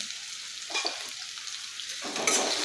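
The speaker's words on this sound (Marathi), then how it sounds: "इथे मी एक कांदा बारीक कट करून घेतलेला आहे तो मी टाकत आहे" Finely chopped onion and green chillies fry in a pan, a close, moderate sizzle with stirring scrapes that swells louder near the end, with no voice heard.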